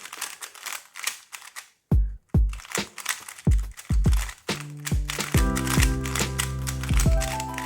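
A lubed RS3M 2021 speedcube is turned rapidly to break it in. Sharp, close plastic clicks and clacks come in quick irregular flurries, and a steady tonal layer sits underneath in the later part.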